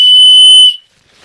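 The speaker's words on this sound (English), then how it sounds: "And finally, on to number 10, and it is having a safety whistle." A loud, shrill safety whistle carried for ultra marathon running gives one sustained piercing blast of under a second, then cuts off into near silence.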